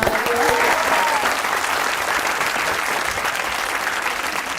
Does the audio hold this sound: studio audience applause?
yes